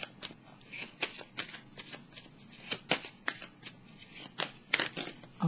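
Tarot cards shuffled by hand in a quick, uneven run of crisp riffling bursts, close and moderately loud, with no voices over them.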